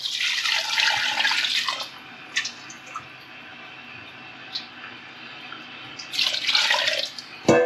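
Water pours steadily into a pot to dissolve honey for mead, starting strong, easing to a lower rushing stream with small splashes, then surging again at the end.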